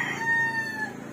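A rooster crows once, a short drawn-out call at moderate distance over steady background noise.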